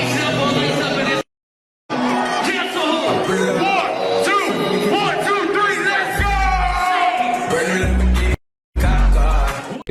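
An angry concert audience at a show erupts in loud yelling and shouting, voices overlapping with whoops and cries close up, broken by brief silent gaps and heavy low thumps.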